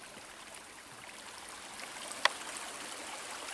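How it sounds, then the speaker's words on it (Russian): A forest stream fed by a spring trickles steadily over stones, a soft continuous wash of water with one brief sharp click partway through. "Вообще журчит ручей."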